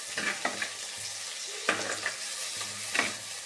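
Sambar ingredients sautéing in a clay pot, a steady sizzle broken by a few sharp scraping stirs of the spoon, close and fairly loud with no talking.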